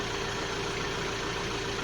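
A tractor engine idles steadily and close by, a continuous even drone with no pauses and no voices.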